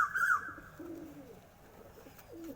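A pigeon coos softly nearby in a couple of short, low murmuring phrases, with a brief higher chirp at the start, against a quiet background.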